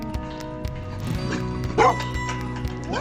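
A puppy gives a quick, high yip during play in a barn over a steady humming background, with faint scuffling around it.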